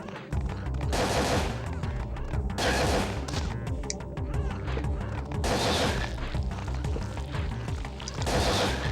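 Dense, continuous bursts of gunfire from Parasite Eve 2, loud and rapid like machine-gun fire, recurring in heavy waves with brief lulls, with no talk over it.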